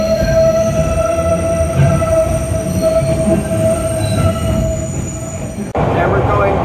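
A PATH subway train runs through the tunnel under the Hudson toward New Jersey, its wheels squealing in a long steady metallic whine over loud continuous rumble, with a sharp change in the noise near the end.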